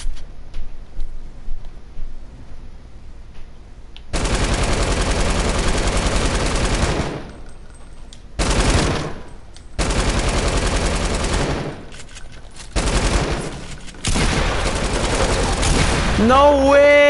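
Bursts of rapid automatic gunfire in a shooting game, long sustained volleys broken by short gaps, loud and close, with a faint voice in the quieter stretches before the firing starts.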